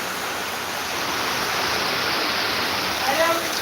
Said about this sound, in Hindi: बहुत जोर पानी बरस रहा है